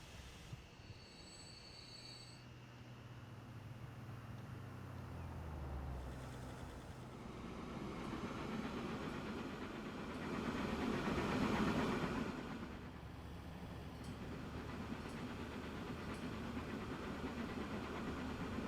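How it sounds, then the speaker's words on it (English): Trains pulling away from a station platform in the video game Transport Fever 2, a steady rumble of rolling wagons with faint wheel squeal, swelling midway and holding at a moderate level with no talking. "Trains will actually leave the platform then"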